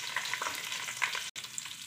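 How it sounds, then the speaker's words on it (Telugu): Onions, finely cut green chillies and whole spices frying together in a pan for an aloo kurma, a steady soft sizzle with light crackles and occasional stirring, briefly cut to silence midway. "అన్నీ కలిసేలాగా ఫ్రై చేసుకోవాలి"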